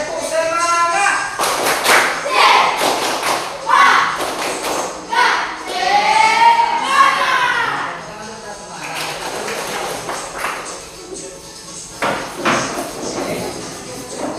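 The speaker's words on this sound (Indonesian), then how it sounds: "coba tepuk tangan dulu ya. Tepuk semangat." Children in a coding and computational-thinking lesson do a rhythmic cheer clap, bursts of group clapping in patterned beats alternating with chanted voices and a teacher talking.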